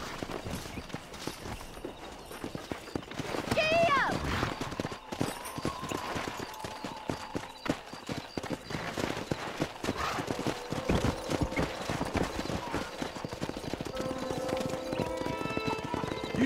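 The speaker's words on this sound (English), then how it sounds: "Let's see if we can't wrangle some horses." Horses in the video game Red Dead Redemption clop along steadily at a trot while one neighs loudly partway through, with a soft ambient backdrop and no talking.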